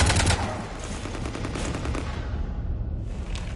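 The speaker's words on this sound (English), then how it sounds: "You want to stop shooting up my ship?" Loud, rapid gunfire rattles in continuous automatic bursts as shots hit a ship in the game Mass Effect 3 Legendary Edition, dense and close with no voices.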